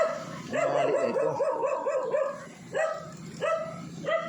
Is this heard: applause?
no